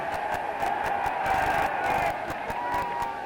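Large racecourse crowd at Cheltenham applauding and cheering in a sustained ovation for a champion horse, a dense steady roar with scattered clapping throughout.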